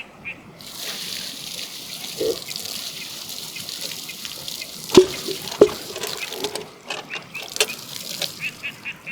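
Rinsed raw potato fries being drained outdoors at a campsite: water trickles and splashes steadily from a pot, with a few sharper drips and clunks partway through, close and moderately loud.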